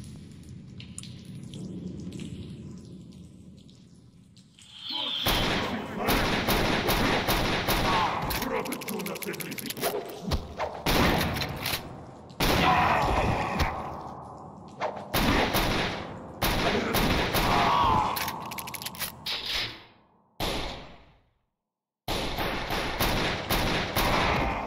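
Bursts of enemy gunfire in the Doom WAD CountryCide, a video game: loud, dense rapid shots and blasts running almost continuously with brief gaps, some dropouts near the end.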